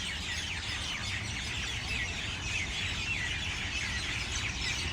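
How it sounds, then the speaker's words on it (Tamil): Busy, continuous chirping of small sparrows outdoors at an Abu Dhabi cultural site, many overlapping high calls forming a dense chorus over faint low background noise. "எவ்வளோ அற்புதமான குருவி சத்தம்"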